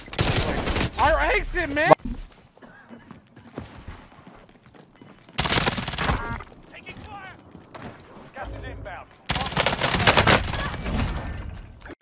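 Rapid bursts of automatic gunfire from an online shooter game come in three loud clusters separated by quieter stretches, with players talking tensely over the action.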